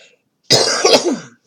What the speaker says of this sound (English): Need to cough, so give me just a sec.